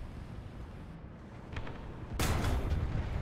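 A loud gunshot-like blast from a first-person shooter game, a single sharp burst with a sustained rumbling tail, preceded by fainter game sounds.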